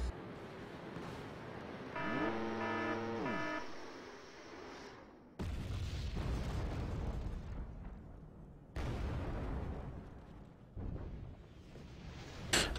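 Bombs and cluster bombs strike tanks in the video game Wargame Red Dragon: three loud, heavy blasts, each followed by a rolling rumble. Before them a steady tonal drone runs under mixed noise.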